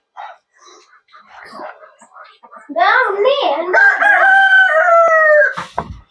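A loud, close rooster crow rising and holding its drawn-out final note, preceded by soft quiet murmuring and faint rustling.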